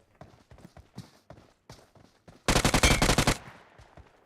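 Scattered clicks and taps give way to a loud rapid burst of automatic gunfire in PUBG Mobile lasting about a second, then fading.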